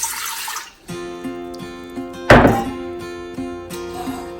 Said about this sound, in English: You're going to add about 2 cups of water.